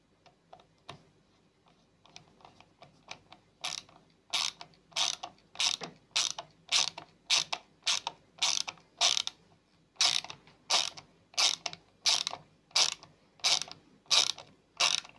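A screw is tightened during reassembly of a DeLonghi ESAM04 coffee machine, giving a regular run of sharp ratcheting clicks at close range that grows louder and steadier after a few quieter ticks.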